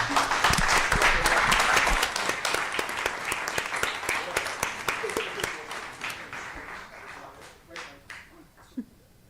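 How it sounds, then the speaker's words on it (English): A school board meeting audience applauds for an honored community member, dense clapping loud at first and gradually thinning out to scattered claps, with a few voices underneath. "let's give a round of applause for Mr. Mark Valeri"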